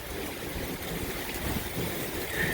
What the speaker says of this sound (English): Some nice intense rain.